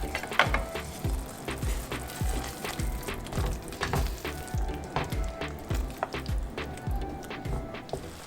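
Tomato paste frying in oil with minced lamb keema curry and peas, a steady close sizzle with repeated soft stirring scrapes and squelches throughout.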